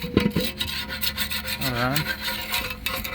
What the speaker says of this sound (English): Scrape all the gunks all around